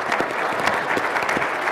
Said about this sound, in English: Quiet round of applause for